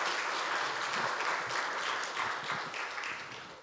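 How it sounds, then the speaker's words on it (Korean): A congregation claps during a Sunday church service, a dense, close burst of applause that holds steady and then gradually fades. "박수 드려요."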